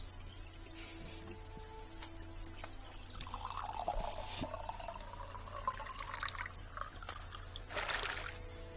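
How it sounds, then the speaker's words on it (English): Water pouring and trickling from a temple fountain as a water skin is filled in the video game Morrowind, a soft liquid gurgle with splashy bursts over a low background hum, quiet overall. "there is a fountain here, so I will be filling up my water skin"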